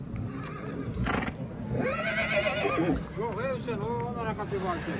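Horses neighing loudly nearby at a livestock market, several wavering whinnies in succession over a low murmur of background noise.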